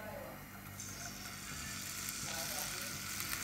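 Finely chopped garlic sautés in hot oil for a dried-prawn curry, a steady close sizzle with faint stirring scrapes and a voice murmuring lightly beneath.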